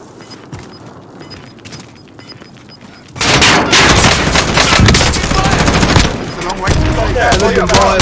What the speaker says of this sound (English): Somebody else is shooting, bro.